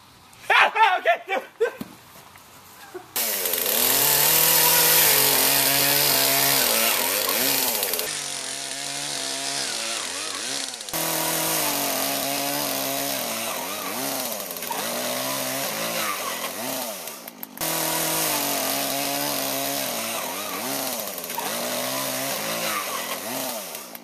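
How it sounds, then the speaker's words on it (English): Chainsaw cutting through a skull analog: the engine revs up loudly after a few seconds of clatter, then whines and bogs as it bites, briefly dropping off and surging back in repeated bursts. "now we're gonna try out the skull analog with the chainsaw"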